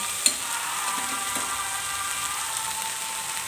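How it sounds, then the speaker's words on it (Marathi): Dried fish (sukat) stir-fries in a pan with turmeric and coriander powder, making a continuous close sizzle with a sharp utensil knock near the start. "छान असे सुकट आता परतून झालेले आहे"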